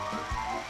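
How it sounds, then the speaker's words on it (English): A short, bright jingle-like game sound effect in the PlayStation kart racer Smurf Racer, tonal and tinkly like an ice cream van chime, heard on its own at moderate level for under a second. "Mario Kart style sound effect"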